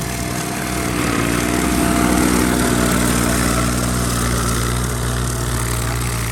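A Kubota 4x4 ride-on lawn mower engine runs steadily at a close, loud, constant drone with a low mechanical hum and no speech.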